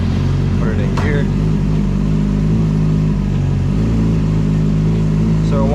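A Yamaha R6 motorcycle engine runs loudly and close by at a steady idle, with a faint clunk as it is put into gear partway through.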